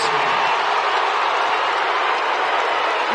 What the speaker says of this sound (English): Sellout crowd tonight. Making a lot of noise.